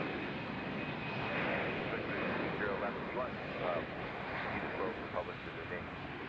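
A special-livery airliner arrives at Nashville airport, its engine a steady, broad roar under continuous background noise and wind, with voices talking over it throughout.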